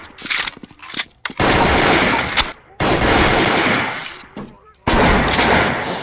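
Gunfire in the video game Garry's Mod: three loud, close bursts of rapid shots separated by short gaps, with talk mixed in.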